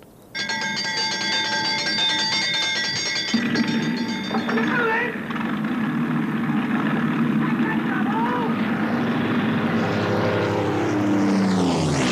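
A propeller aircraft at a wartime airfield somewhere in England gives a steady, loud engine drone with a whining tonal edge that runs throughout, with a brief dip about five seconds in.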